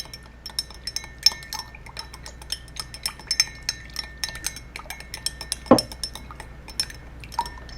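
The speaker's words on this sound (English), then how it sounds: "So you're going to add a little bit of that. Make sure it's good and stirred." A spoon stirring a cocktail of lemon juice in a glass, giving light repeated clinks and taps against the glass at an uneven pace, close by, with one sharper knock partway through and no talking.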